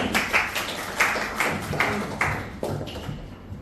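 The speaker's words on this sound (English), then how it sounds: "Round of applause." Audience at a summer interns' farewell event applauding, a steady, fairly close round of clapping with individual hand claps audible, fading slightly toward the end.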